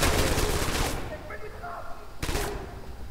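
PPSh submachine gun fire in a multiplayer shooter match, a loud, rapid burst of automatic shots for about a second, then a quieter gap and a second short burst, with a voice talking over it.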